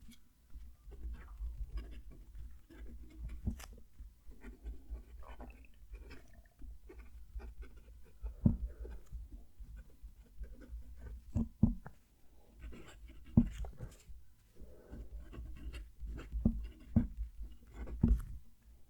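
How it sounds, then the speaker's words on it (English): A HongDian steel fountain pen with a bent nib scratches across paper close to the mic, soft rasping strokes and small taps in an irregular rhythm with brief pauses, faint and intimate with no talking. "I'm going to move the mic down to the page so you can hear the pen write"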